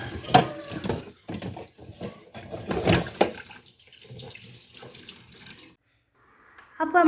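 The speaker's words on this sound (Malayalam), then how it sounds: "ഇനി നമുക്ക് കുറച്ച് പാത്രങ്ങളൊന്ന് കഴുകിയെടുക്കാണ്ട് കേട്ടോ." Breakfast dishes being washed under a running kitchen tap, with bursts of water splashing and clinking in the sink, pausing briefly before the flow starts again near the end.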